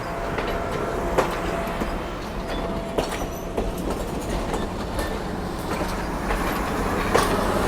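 A train passes at a Kentucky railway museum, a steady rolling rumble with wheel clatter and occasional squeaks that holds for the whole stretch and swells slightly near the end.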